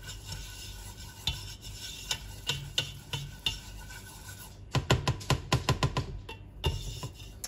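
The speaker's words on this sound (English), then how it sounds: "I'm gonna add my flour and whisk." Flour is whisked into a butter roux in a pot: rapid, irregular scraping taps of the whisk against the metal, sometimes in quick bursts, with a faint background hiss and no voices.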